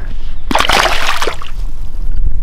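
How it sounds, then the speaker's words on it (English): A released smallmouth bass splashing away into lake water, a sudden close burst of sloshing and spray that settles into softer dribbling and gurgles. "and the splash"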